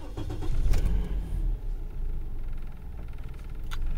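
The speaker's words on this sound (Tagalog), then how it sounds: "Start ko na yung makina." A car engine being started after battery removal, with a low rumbling crank that catches and settles into a close, steady idle with a few rattles and clicks and no speech.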